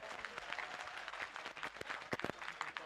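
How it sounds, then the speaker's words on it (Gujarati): Audience at a Sadaram girls' hostel groundbreaking ceremony in Patan clapping, a dense, steady round of applause heard from a distance at moderate volume, with a few sharper individual claps standing out. "બાબાભાઈ માટે એક વખત ફરીથી જોરદાર તાળીઓ થઈ જાય"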